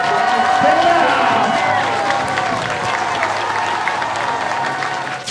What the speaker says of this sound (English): let's take a big bow to thunderous applause